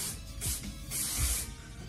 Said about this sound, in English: So we'll go ahead and spray my hair